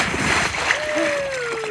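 A rider on a waterslide sends up loud, close rushing and splashing water through the whole short moment, with a voice crying out over the spray.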